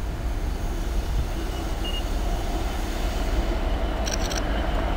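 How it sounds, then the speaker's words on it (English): A Freightliner coal train rumbles past on the high level line at Nuneaton, a steady, continuous low roar of wagons from start to finish, with a brief high squeal near the end. "Freightliner coal train on the high level."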